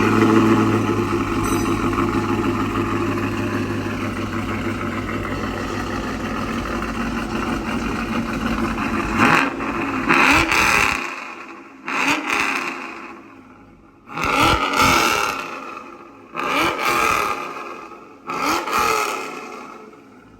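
A cammed GMC Sierra pickup fitted with Corsa resonators idles with a loud, choppy rumble, then is blipped through several sharp revs in a row, each rising and dropping back, close by.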